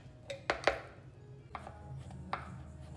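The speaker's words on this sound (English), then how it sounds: "Marinated mushrooms, give them a chop." A knife chops marinated mushrooms and black olives on a cutting board for a Canadian antipasto. A few sharp, separate chops land close and distinct over a quiet kitchen background, with no talking.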